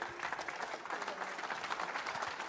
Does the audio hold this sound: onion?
no